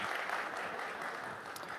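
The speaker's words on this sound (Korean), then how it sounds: "박수" Congregation applauding inside a church during a Sunday service, dense continuous clapping that fills the space evenly and stays fairly loud throughout, with no voices on top.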